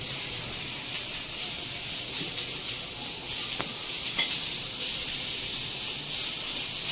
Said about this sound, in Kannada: ಆಮೇಲೆ ಶುಂಠಿ, ಬೆಳ್ಳುಳ್ಳಿ ಹಾಕ್ಬಿಟ್ಟು ಅದ್ರ ಜೊತೆಗೆ ಎರಡು ಸೇರಿಸ್ಬಿಟ್ಟು ಫ್ರೈ ಮಾಡ್ಕೊತಾ ಇದ್ದೀನಿ